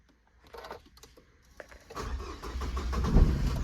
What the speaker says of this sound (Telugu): సో నేనైతే ఇంజన్ అయితే స్టార్ట్ చేసిన